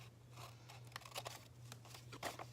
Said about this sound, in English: you're going to cut just a little bit off to the side, just like that angle